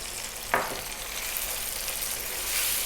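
Cumin, coriander, turmeric and chili powder hit tomatoes in a hot pan for a lamb curry, giving one sharp burst of sizzle that settles into a steady, close frying hiss.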